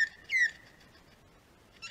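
A male lyrebird in bushland near the Dandenongs in Victoria mimics other birds' calls, giving a couple of short, faint whistled chirps separated by a pause.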